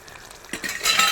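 Masala frying with curry leaves and dried chillies in a pan, stirred with a spoon: brief scraping strokes followed by a rising sizzle, close and fairly loud, with no voices.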